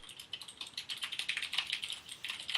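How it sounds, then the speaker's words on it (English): Fast typing on a computer keyboard, dense irregular clicks of keys close to the microphone, continuous and fairly quiet, with no talking. "I was just typing."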